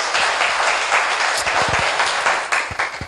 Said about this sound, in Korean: 여기까지 이해되신 분들 박수 한번 쳐볼게요.